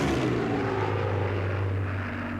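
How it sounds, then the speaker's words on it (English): Piston engines of Luftwaffe bomber aircraft droning overhead in late August, a steady loud low hum with a strong sustained tone, continuous with no gaps. "Throughout late August, Luftwaffe bomber squadrons keep coming."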